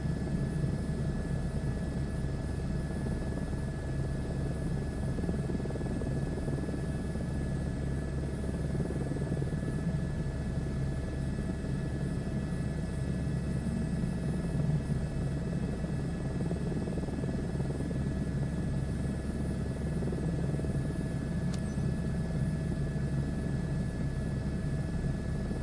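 Helicopter approaching a helipad in Microsoft Flight Simulator 2024, a steady loud rotor and engine drone that holds constant throughout with no talk.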